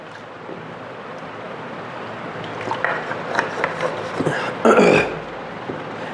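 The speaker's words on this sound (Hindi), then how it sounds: "थोड़ा सा पानी पी लेता हूं।" A man takes a few sips of water, giving a close series of soft gulps and swallows that build to a louder, breathy burst near the end.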